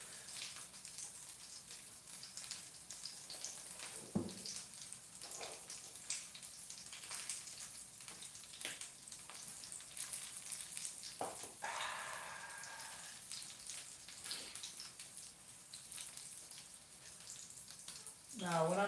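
Pork cutlets deep frying in oil for tonkatsu, a quiet, continuous crackle and sizzle with a few sharper pops and clinks from the kitchen mixed in.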